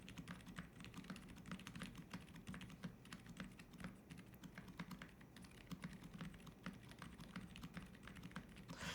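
Steady, fast typing on a mechanical keyboard with silent switches, an Odin V2 build, giving soft, muted keystrokes in a continuous quiet patter, close but low in level.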